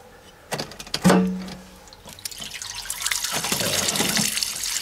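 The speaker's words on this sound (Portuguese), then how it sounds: "então abri a torneira lá dentro" A tap inside a trailer or motorhome is opened: a few knocks and a short low hum come first, then water running from the faucet builds into a steady, close splashing stream.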